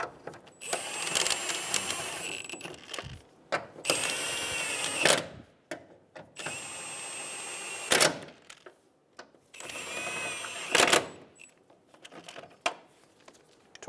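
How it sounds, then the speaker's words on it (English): A ratchet snugs down engine mount bolts on a 2011-2014 Hyundai Sonata, with several runs of fast, close clicking separated by short pauses and sharp metallic clacks. "Snug the bolts down."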